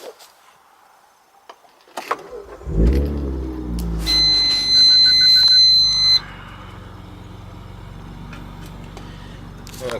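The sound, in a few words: car engine starting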